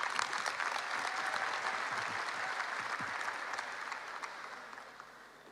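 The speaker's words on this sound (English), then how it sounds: "Let's give him a warm round of applause as he comes out here on stage" A large audience at an International Youth Day event in Kigali applauds a speaker coming on stage, a dense, even roar of clapping that gradually fades toward the end.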